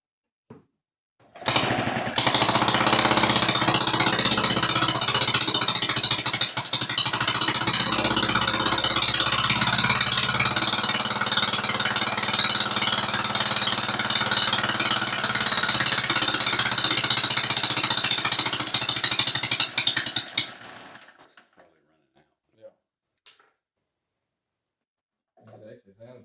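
A rare brass-tag Briggs & Stratton Model N small engine runs loud and rattly for about twenty seconds, then cuts out and sputters to silence, followed by a few faint knocks.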